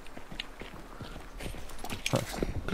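Horse hooves clip-clopping in the video game Hunt: Showdown, a light irregular patter of steps under a steady ambient bed, with louder rustling bursts near the end; no clear whinny stands out.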